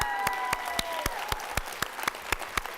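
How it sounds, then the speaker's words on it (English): Audience applause from a crowd at a CEE 2017 event, steady dense clapping with sharp individual claps standing out, sustained throughout. "Let's give him a big round of applause."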